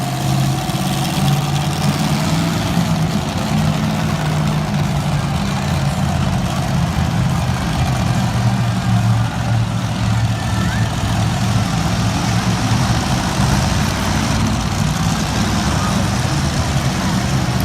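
A Brutus monster truck engine rumbles steadily at idle in a Monster Jam arena, a loud, continuous low drone with a steady hum throughout.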